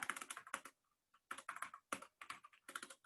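Quick bursts of computer keyboard typing, close and crisp, in several clusters of rapid keystrokes separated by short pauses.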